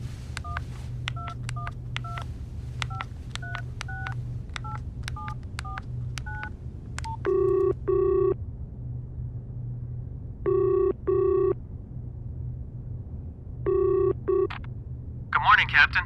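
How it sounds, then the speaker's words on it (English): A satellite phone is dialed with a quick run of keypad tones, then a ringback tone sounds three times in paired bursts with pauses between, clear and close, with a faint steady hum underneath. "Let's call him. Hand me the sat phone."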